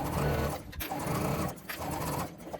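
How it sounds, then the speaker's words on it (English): A sewing machine runs steadily, stitching a zip straight across a bottom seam on thick fabric, its motor whirring close and continuous with a couple of brief pauses. "we will sew straight across"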